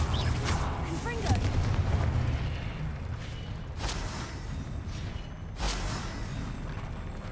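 Confringo blasting spell cast in Hogwarts Legacy, fiery bursts amid ongoing combat effects, with sharp explosive hits near four and six seconds over a dense rumble and faint talk.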